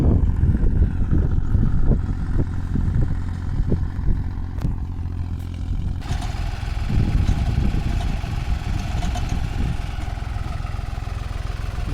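A tractor engine works steadily while ploughing a field being prepared after poplar trees were cut. The drone is continuous and fairly loud, with a low rumble that never drops away.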